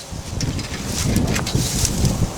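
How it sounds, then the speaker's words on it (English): Gusty wind buffets the microphone in a steady low rumble, with faint rustling on top and no voices. "Windy day."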